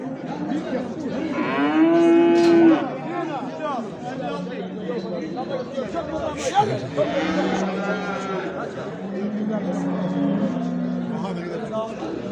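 Cattle at the Göksun livestock market in Kahramanmaraş moo repeatedly, with two long loud calls and a fainter third, over the steady chatter of traders haggling nearby.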